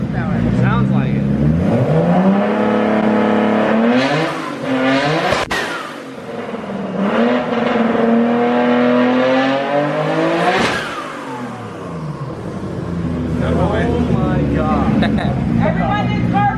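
A 750-horsepower car engine revs loudly and close by in repeated rising and falling surges, with a sharp sweep partway through and people talking over it.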